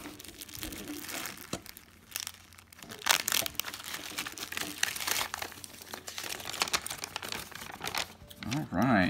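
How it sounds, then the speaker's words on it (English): Crinkling and rustling of wrapping as a mail package from a seller is unwrapped, a busy stream of crackles and tears close up with louder bursts near the end. "I'm gonna unwrap that one."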